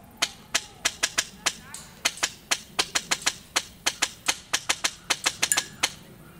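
An Inferno airsoft DMR fires a long run of sharp, snappy shots outdoors, about thirty cracks in quick, slightly uneven succession, close and crisp against a quiet background.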